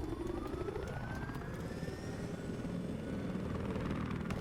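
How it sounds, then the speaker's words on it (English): A Battlefield 4 helicopter in a conquest match, its rotor drone steady and fairly loud throughout, with a slowly rising engine whine as the craft passes. "This is where the helicopter comes in."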